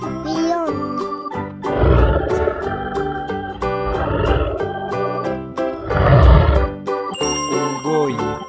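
A lion gives two loud, deep roaring bursts, one early and one near the end, mixed into bouncy, chiming children's music that runs the whole time.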